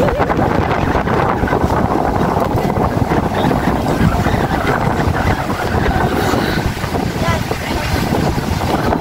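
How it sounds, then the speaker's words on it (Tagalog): Strong sea waves slap and rush against a small boat riding rough water off the rocky Ilocos coast, with steady wind buffeting the microphone and a voice talking over the churning noise. "Oh my God, lakas ng alon."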